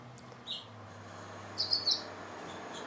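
Several small birds chirp in short, high tweets, one early call followed by a quick cluster of three, fairly near over a low steady background hum, with no talking.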